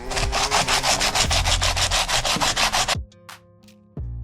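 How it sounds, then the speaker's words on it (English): 80-grit sandpaper is rubbed across a 1980 Scout II grill in quick, rhythmic back-and-forth strokes, close and loud for about three seconds before stopping, followed by a couple of faint knocks. "And now I'm just going over it with some 80 grit."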